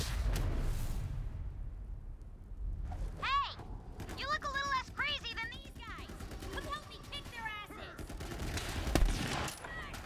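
Gunfire from the video game Guns, Love, & Tentacles, bursts of rapid shots repeating through the scene and mixed with game effects and music-like tones, with a person talking over it.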